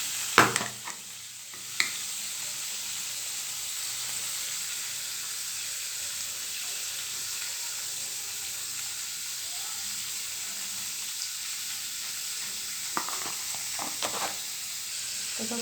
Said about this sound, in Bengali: এরপর একটু হালকা করে ভেজে নেব।